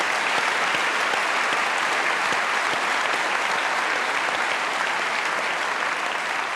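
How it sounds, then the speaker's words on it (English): A large audience at a Q&A event at the University of New South Wales applauds: thick, sustained clapping that stays loud and even from start to finish. "Give yourselves a round of applause."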